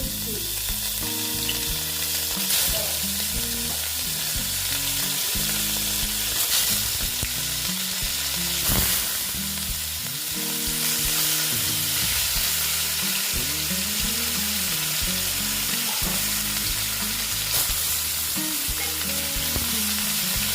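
Rohu fish pieces fry in a pan with salt, a steady close sizzle with stirring scrapes throughout, backed by continuous melodic music and no voices.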